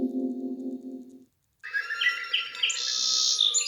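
A sparrow chirps in a quick series of bright, high tweets during a storybook reading, following a short musical tone and a brief pause.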